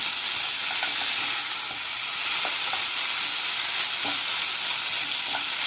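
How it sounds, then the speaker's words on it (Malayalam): Long beans sizzle steadily in hot oil with ground pepper for a Kerala-style mezhukkupuratti, with sporadic scraping clicks as a spoon keeps stirring them in the pan, close and continuous throughout. "അല്പസമയം നമ്മളിങ്ങനെ ഇളക്കി കൊടുത്തുകൊണ്ടേയിരിക്കണം."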